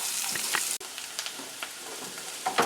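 Onions and peppers sautéing in a pan for a meatloaf, a steady close sizzle with a few soft stirring scrapes scattered through, no voices.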